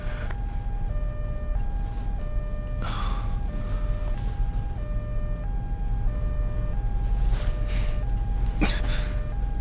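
An ambulance siren wails in a repeating two-tone alternating pattern, steady and fairly close, with a couple of short sharp noises and a brief gasp-like sound mixed in.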